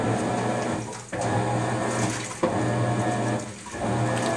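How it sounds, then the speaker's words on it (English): A Maytag MVWX655DW1 top-load washer runs a carpet wash cycle, giving a steady close mechanical hum and churning drone with a low tonal whine and brief dips where the agitation shifts. "This machine is gonna wash today, guys."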